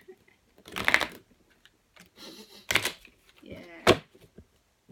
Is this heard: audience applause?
no